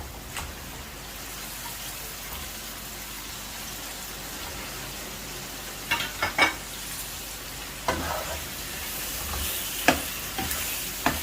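Large-cut tomatoes added to a chicken karahi masala sizzling in the pot, a steady frying hiss that grows busier, with sharp clatters and splashes near the end, close and without talk.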